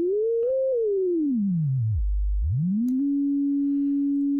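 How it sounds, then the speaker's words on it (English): A pure sine tone from an oscillator glides up a little, then sweeps steadily down to a deep low hum and rises again to settle on a steady mid pitch, clean and loud with no voices. "And I've got a sine wave"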